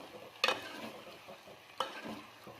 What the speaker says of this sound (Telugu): చికెన్ వేసేసుకున్నాం కదా, మంచిగా కలుపుకుందాం